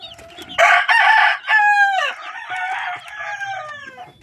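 Grown backyard chickens of an unknown breed cluck while a rooster crows loudly nearby in a drawn-out call, followed by further fainter crowing and clucking.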